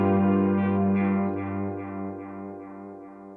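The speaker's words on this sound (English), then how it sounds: "So as you can hear, we're already getting a ton of vibe just from using the delay." An electric guitar sustains a chord through a delay pedal, ambient and spacious, the tone slowly decaying while soft repeats ripple and blur beneath it; no voices.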